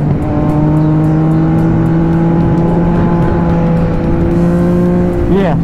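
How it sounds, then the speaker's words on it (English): A naked motorcycle is ridden at a steady engine drone, its loud, close tone holding nearly constant with a slight pitch shift near the end. "being on a naked bike is definitely different"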